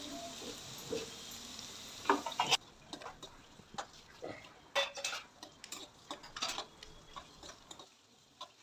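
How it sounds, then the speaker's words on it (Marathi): Onion sautéing in hot oil for a wild-vine vegetable dish, with a steady close sizzle and crackle broken by scattered sharp clicks and scrapes of stirring. "तो कांदा जरा चांगल्या पद्धतीने जसं फोडणी तुम्ही घरात देता तसंच या ठिकाणी परतून घ्यायचा"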